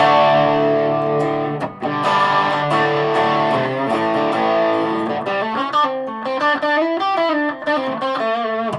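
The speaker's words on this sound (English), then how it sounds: "put a bit of distortion in" An electric guitar with humbucker pickups plays through distortion, giving sustained overdriven chords that shift into a run of quicker single notes. It is loud and close, with no talk over it.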